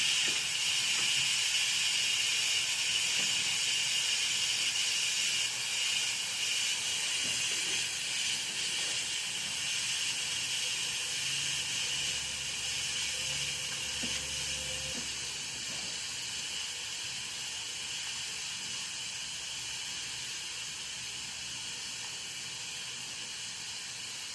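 Steam hisses steadily and loudly from an Instant Pot electric pressure cooker making spaghetti, a continuous bright rush that barely changes for over twenty seconds, with faint background hum.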